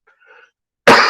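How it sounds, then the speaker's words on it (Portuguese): A single sharp, loud cough rings out in a lecture room after a brief stretch of faint murmuring, the burst lasting to the end. "Agora eu vou ficar eu aqui tossindo até o final."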